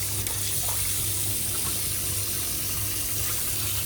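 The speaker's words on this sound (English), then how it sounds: "Let's give the sink a wash out as well." Tap water runs steadily into a kitchen sink being washed out, a continuous close hiss and splash at even loudness throughout, with no talking.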